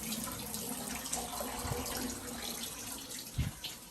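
A hotel room shower runs steadily at the Hilton Atlanta Airport, a continuous hiss of falling water heard close by, with a couple of brief soft knocks near the end.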